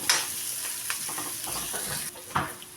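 Garlic and onion sautéing in a pan for a beef offal dinuguan, steady sizzling under intermittent scraping stirs of a utensil, close and moderately quiet with no talking.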